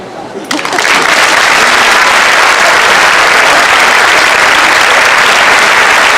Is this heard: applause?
yes